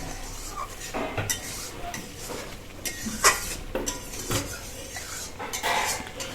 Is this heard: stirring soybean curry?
yes